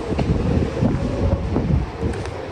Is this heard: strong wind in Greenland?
yes